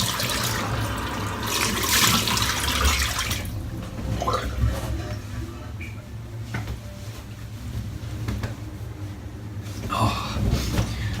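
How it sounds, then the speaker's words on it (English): Cold water runs from a tap and is splashed at a bathroom sink, with bursts of splashing over a steady flow and a few knocks, and no speech. "splash of the cold water."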